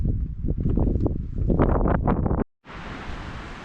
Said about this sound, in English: the wind has just picked up